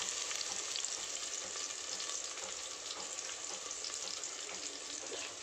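Onions fry in a pan for a gongura biryani, a soft but steady sizzle with faint scraping and light clicks from stirring, even throughout and fairly quiet.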